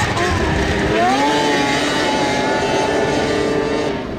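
A Ski-Doo 700 two-stroke snowmobile engine runs at a steady high idle, a loud, continuous drone with a slight pitch rise early on, close by and without talk.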